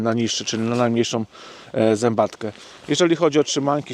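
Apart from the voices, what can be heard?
No everyday noises stand out.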